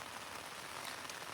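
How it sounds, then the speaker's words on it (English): Steady rain pattering outdoors along a hiking trail on the Continental Divide Trail, a dense even hiss of drops with no voices. "It's raining."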